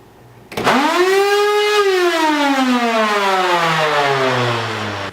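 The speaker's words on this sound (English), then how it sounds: "because my vacuum sounds like this" A vacuum cleaner motor whines up to a loud, piercing pitch, then slowly drops and sags in tone as it keeps running, close by.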